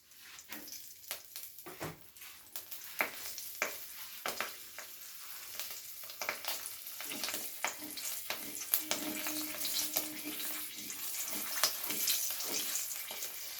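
Whole spices and green chillies sizzle in hot oil left from frying rohu fish, a steady crackling fry punctuated by sharp pops and stirring clicks that grow busier toward the end, with no talk.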